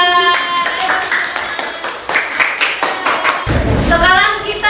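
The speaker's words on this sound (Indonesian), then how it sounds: "Beri tepuk tangan buat" Children in a classroom clap their hands together in a burst of applause lasting several seconds, fairly loud and close, with a teacher's voice and other speech mixed in around it.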